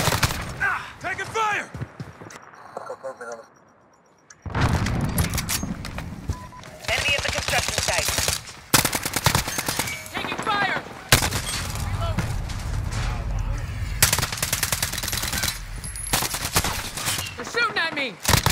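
Repeated gunfire and machine-gun bursts crackle through a shooter video game match, loud and close, coming in dense volleys that break off briefly for a near-silent gap before resuming. Voices call out under the shooting.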